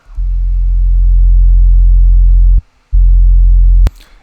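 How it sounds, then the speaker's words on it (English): A thick synth sub bass built from two sine waves, a deep sustained low tone that holds, cuts out briefly, returns, then stops with a sharp click. "It's quite a thick sub bass."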